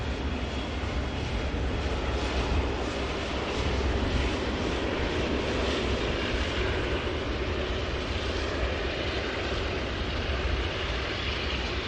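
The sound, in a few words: Boeing 747 taxiing at Manchester Airport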